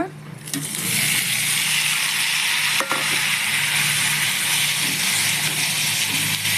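Pumpkin pieces fry in hot ghee with raisins for sweet pumpkin payasam, giving a loud, steady, close-up sizzle that starts abruptly and holds throughout, with a brief clink partway through.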